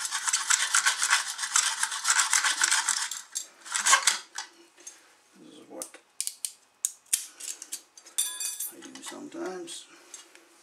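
A hacksaw blade in a holder picks and scrapes at a glued plastic pipe inside a fitting, starting with a sustained gritty scraping and then breaking into short scratches, clicks and knocks, close and fairly quiet.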